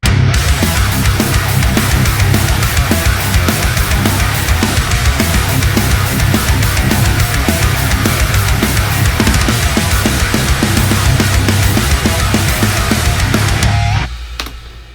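Recorded song cover with guitar and bass playing a dense, loud, full-band mix that runs steadily and unbroken for about fourteen seconds before ending abruptly, with no talking over it.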